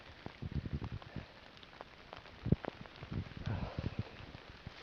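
Light rain beginning in an autumn forest during mushroom picking, scattered patter of drops on leaves and ground, irregular taps near and far, soft and steady, no talking.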